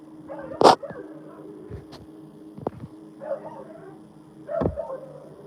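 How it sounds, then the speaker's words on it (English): A dog gives a few scattered yips and short barks, fairly faint, with whimpery sounds between them and no talking. "That's the dog."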